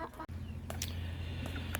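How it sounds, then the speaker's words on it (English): Ameraucana chickens, hens and a rooster, cluck steadily in a coop, a close continuous low clucking with a few sharper bird calls over it. "these are our Americanas, and there's our rooster, Americana rooster, if you see him"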